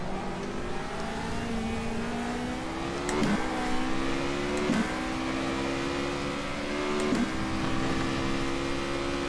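A 2014 Formula Renault 3.5 engine in rFactor 2 at Silverstone screams at high revs, rising steadily with three sharp gear-change breaks as the car accelerates, loud and close with no talk.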